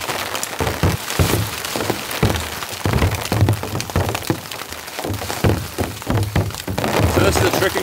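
Heavy rain pattering and drumming on an ultralight trekking pole tent during a camping rainstorm, dense and close with sharper drops and knocks, continuous throughout, with a voice speaking.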